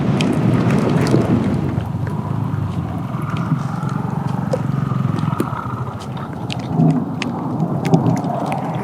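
Heavy rain falls steadily through a severe thunderstorm in Roswell during a scooter ride, a dense, loud wash of noise with low rumbling underneath. No one speaks.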